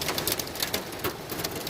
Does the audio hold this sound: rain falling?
yes